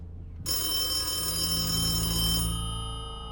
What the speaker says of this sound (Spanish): El teléfono del comedor suena, provocando que varios se levanten asustados.